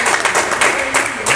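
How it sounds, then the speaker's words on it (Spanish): A church congregation breaks into applause during a Spanish-language sermon, a dense, loud patter of clapping filling the sanctuary with a few stronger bursts. "Dale un aplauso al Señor si así lo desea."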